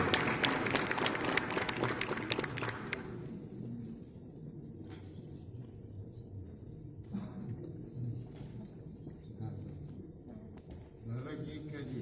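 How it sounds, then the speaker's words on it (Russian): Audience applause at an exhibition opening honoring the 100th anniversary of an art museum, a dense burst of clapping for about three seconds that then thins out into scattered claps and room murmur. "Под ваши бурные аплодисменты."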